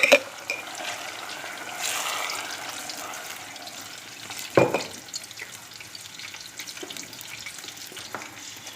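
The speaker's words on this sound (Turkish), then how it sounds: "Salçalarımızı kavurduktan sonra domates sosumuzu ilave ediyoruz." Tomato sauce poured over sautéed pepper paste in a pan gives a moderate, steady frying hiss with a brief thump partway through, heard up close and alone.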